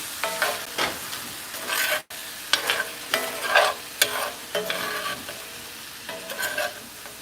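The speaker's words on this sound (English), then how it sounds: "I'm going to just glaze it over and stir it up." Hibachi-style food sizzling in a pan as it is stirred and glazed with teriyaki sauce, with steady frying hiss broken by repeated scraping stir strokes, close and fairly loud, no talking.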